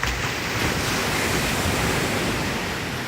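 Ocean surf at Myrtle Beach rolls in with a continuous loud wash of waves, mixed with wind buffeting the microphone, and nobody speaks.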